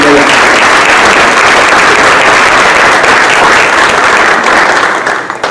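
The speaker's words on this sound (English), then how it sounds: "I just want to really thank them and show them a round of applause" An audience at a justice-themed community gathering applauds its organizers with loud, sustained clapping from a large crowd that stays full for about five seconds, then tapers off at the end.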